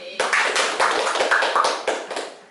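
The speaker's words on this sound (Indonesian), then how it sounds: "Oke, tepuk tangan." A group in an Indonesian school guidance-counselling session claps hands together in a brisk, even rhythm of sharp, close slaps, running for about two and a half seconds.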